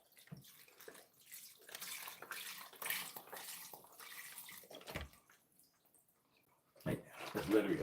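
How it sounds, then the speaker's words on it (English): Broth is poured from a box over turkey wings in a pot, giving bursts of liquid splashing and glugging between pauses, with a louder pour near the end and a voice talking at times. "I'll get that broth in here."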